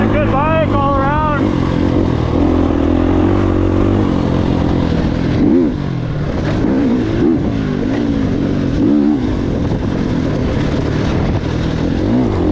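Off-road dirt bike, a Stark Varg electric or Gas Gas 350, riding on a trail with a steady loud drone and shifting whine throughout, rising and falling with throttle, as a person talks over it.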